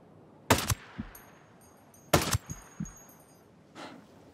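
Gunfire in the video game Ghost Recon Breakpoint: two sharp, loud shots about a second and a half apart, each followed by short echoing cracks, then a faint distant report.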